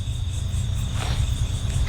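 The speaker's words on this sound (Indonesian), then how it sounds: "suara jangkrik di tempat ini sangat luar biasa" Crickets in Papua chirp in a dense, continuous trill with a low background hum, steady throughout and fairly close.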